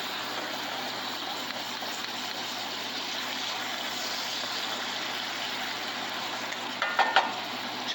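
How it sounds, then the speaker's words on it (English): Beef frying in a pan for a gravy rice dish, a steady broadband sizzle holding at even loudness, with a few louder crackles and pops near the end. "Got that beef cooking real good."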